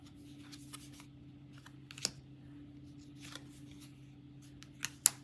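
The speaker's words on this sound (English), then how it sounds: "I feel like I shuffled this pretty good" A deck of cards for a cooperative superhero board game is shuffled quietly at close range, giving soft riffles and a few sharp snaps over a low steady hum, with no talking.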